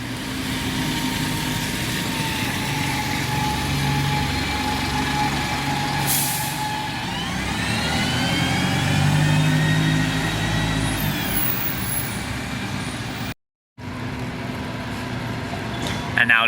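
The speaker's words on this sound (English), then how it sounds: "And now leaving as our first double-decker of the video" A double-decker bus pulls away from Basingstoke bus station with a steady diesel engine drone that rises as it moves off, a brief air hiss, and a rising whine. Someone talks over the engine noise.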